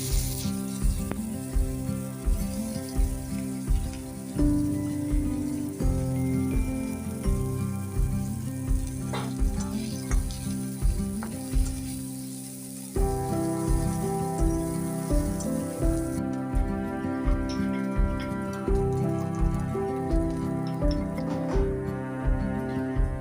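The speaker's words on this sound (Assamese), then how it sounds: "এতিয়া ধুনীয়াকৈ এইখিনি তেলতে পিঁয়াজ দি পেলাই হেৰি কৰি বনাই দিওঁ" Onions frying in oil for a paneer dish give a steady, close crackling sizzle that runs throughout, with a brief dip partway when the pan quiets before resuming.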